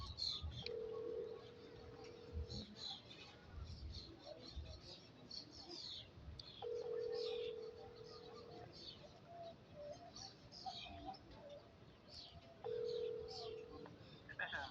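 Telephone ringback at the Tarrant County Criminal District Attorney's office in Fort Worth, three evenly spaced long ring tones about every six seconds, faint and tinny through a phone line, with background chatter and noise.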